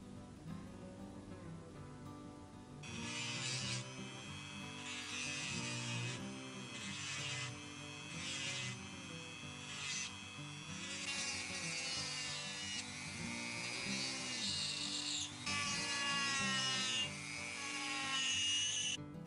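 A handheld Dremel rotary tool grinds away pieces of a kitbashed robot model head, its high whine starting abruptly and running in repeated loud bursts with brief pauses, close and alone.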